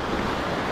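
Sea waves at a rising tide wash in a continuous, fairly loud surf roar, dense and even throughout, with no one speaking.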